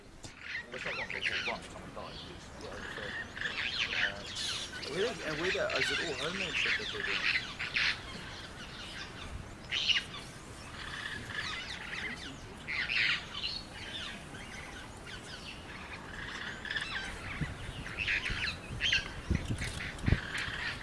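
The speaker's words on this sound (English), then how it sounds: "Bird life is prolific, and indeed this area of Kenya is a twitcher's paradise." Wild birds in Kenya squawk and honk in raucous, repeated calls, a busy flock chorus at moderate distance with overlapping cries, while someone speaks over it.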